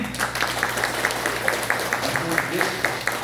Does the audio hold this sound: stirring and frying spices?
no